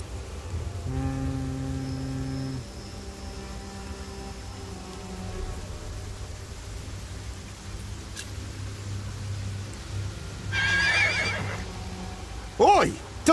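A horse neighs and whinnies in an audio drama scene, a short call rising above a steady low drone and patter like rain, with a sharper burst near the end.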